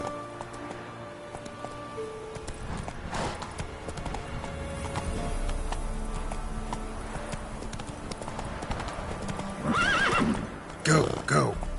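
Hooves clip-clop at a gallop in The Witcher 3 while the horse lets out a couple of loud neighs near the end, with a person talking over the game sounds.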